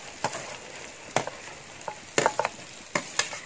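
Sliced onions fry in a pan for a Kerala-style beef dish: a soft, even sizzle broken by several sharp spatula scrapes and taps against the pan.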